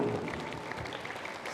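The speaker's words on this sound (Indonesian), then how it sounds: "Tepuk tangan untuk kita semuanya." A church congregation gives a short burst of applause, a soft, fairly distant patter of clapping lasting just over a second.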